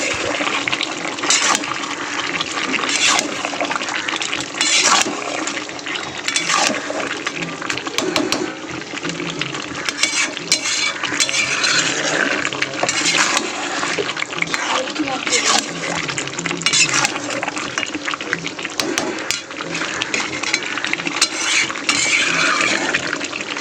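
Chicken and potato curry being mixed in a pot, a continuous wet stirring and scraping that stays loud and busy throughout, with a voice talking over it at times.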